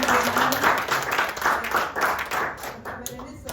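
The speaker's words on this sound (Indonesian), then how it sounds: "berikan aplaus pada Tuhan" A church congregation breaks into warm applause, a dense, continuous clapping that swells and then slowly thins out as the few seconds pass.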